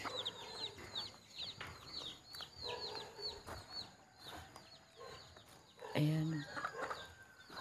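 Free-roaming chickens cluck and call in an outdoor garden at morning, scattered and moderately distant, with birdsong overhead and a voice speaking briefly near the end.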